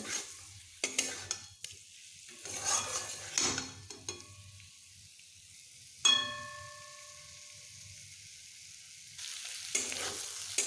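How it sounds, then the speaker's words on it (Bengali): Fish with spices being sautéed in a pan, giving a steady sizzle with repeated scraping stir strokes and a few clinks of utensil on pan, close and fairly quiet, with no talking. "বেশ ভালোভাবে আমি কষিয়ে নিচ্ছি"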